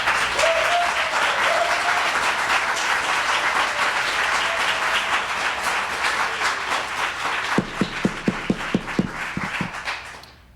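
Audience members at a town Board of Mayor and Aldermen meeting clap in a steady, dense round of applause that gradually thins out, ending with a few sharp, separate claps before falling quiet.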